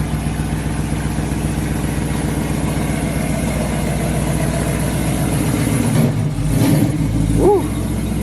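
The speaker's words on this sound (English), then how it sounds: "So she's just moving the car right now to the middle." A Dodge Charger R/T's engine idles with a steady low rumble, then revs briefly near the end.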